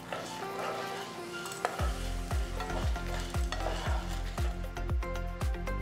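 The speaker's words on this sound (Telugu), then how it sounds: "ఇవన్నీ వేసిన తర్వాత మళ్ళీ రోస్ట్ చేస్తాం, మొదలు పెట్టండి" Ingredients for mint (pudina) chutney dry-roasting in a pan, a steady hiss and rustle with a regular series of rhythmic scraping strokes in the second half, close, no voices.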